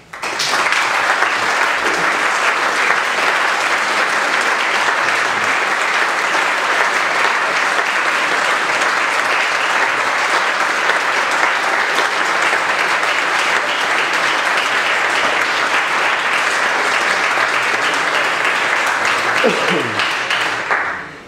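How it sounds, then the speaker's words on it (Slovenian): A full hall erupts in long, loud, continuous applause at a Slovenian independence anniversary celebration, a dense roar of many hands holding steady for over twenty seconds. "prisrčen in velik aplavz cele eh, dvorane tebi, ko znak hvaležnosti"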